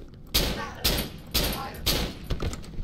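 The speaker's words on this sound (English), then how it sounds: "Two shots." Two gunshots fired in the horror video game Cry of Fear, part of a sharp, evenly spaced series of loud booming reports, each with a broad echoing tail.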